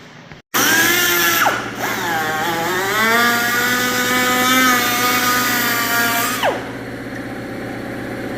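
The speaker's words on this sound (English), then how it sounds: "Cut off wheel on a die grinder." A cut-off wheel on a die grinder slices through plexiglass, a loud sustained high-pitched whine with shifting tones that starts abruptly after a brief quiet moment and runs steadily for about six seconds before easing off.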